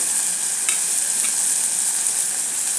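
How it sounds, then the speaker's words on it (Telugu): Garlic paste, onions and green chillies fry in a pan with a steady, loud, hissing sizzle that holds evenly throughout, with only a faint stir or two. "వెల్లుల్లి పేస్టు, ఎర్రగడ్డలు, ఆనియన్, పచ్చిమిర్చి ఇవన్నీ బాగా కొంచెం రోస్ట్ అయితేనే మంచిగా ఉంటుంది"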